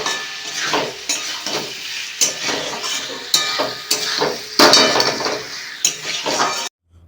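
A spiced curry base is browned in a pan, the spatula scraping and clinking against the metal in repeated close strokes over a bubbling sizzle, stopping abruptly near the end.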